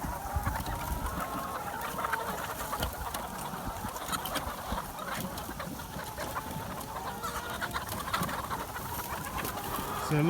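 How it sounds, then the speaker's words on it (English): A flock of chickens clucks busily as they emerge from their house into an overgrown field, a continuous chorus of close and mid-distance clucks and murmurs in the open air. "it's going to be interesting seeing chickens coming out today"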